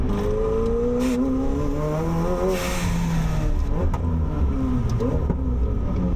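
A McLaren 765LT with a Stage 4+ build revs using rolling anti-lag, a loud, close engine drone with rising and falling pitch, punctuated by sharp pops and crackles from the exhaust over several seconds.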